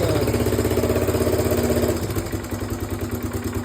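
A 1978 Honda XL250S motorcycle engine with a tight throttle cable runs close and loud, revving with a rapid pulsing beat that drops to a lower, rougher idle partway through.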